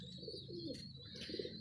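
Pigeons in a high-flyer breeding setup give soft, faint coos, a few low throaty calls close together amid quiet background hiss.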